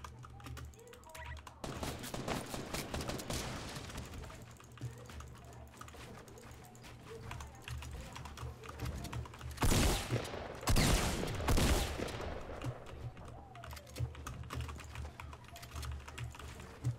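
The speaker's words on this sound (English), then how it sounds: "I'm doing the one shotty challenge, bro. Come fight me, bro. I only got a shotgun." Shotgun blasts ring out in a shooter video game during a one-shotgun challenge. A few loud, booming shots land in the middle, set against constant keyboard clatter and a bit of voice.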